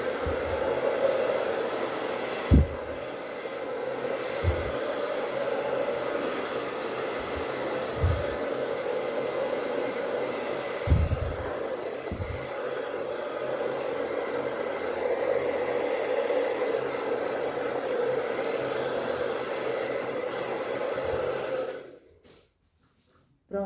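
A hair dryer blows steadily up close while drying a decoupage-painted plate, a continuous rushing whoosh broken by a few soft knocks before it cuts off near the end.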